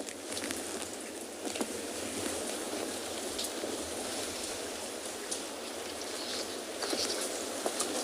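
Steady rain patters at a penguin beach colony in the evening, a soft continuous wash of drops with occasional sharper spatters, fairly faint and even throughout.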